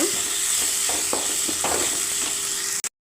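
Onion and tomato sautéed with salt in a pan for a cauliflower egg curry: a close, continuous sizzle with a few soft scraping stirs, cutting off abruptly at the end.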